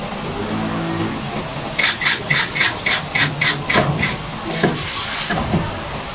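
Screws being driven by hand into a gray metal office table, 120×70×75 cm, during assembly: a run of sharp, rhythmic ratcheting clicks and scrapes about every third of a second, close and fairly loud, then a few more after a pause.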